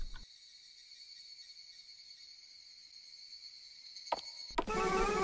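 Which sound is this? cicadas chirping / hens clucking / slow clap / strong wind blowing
cicadas chirping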